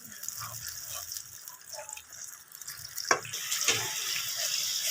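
Water comes to a boil in a cooking pot while white mash (urad) dal is being prepared, giving a continuous bubbling, gurgling wash with a few louder pops and no talking.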